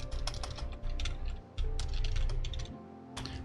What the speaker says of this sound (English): Let me type in power wash versus pressure wash.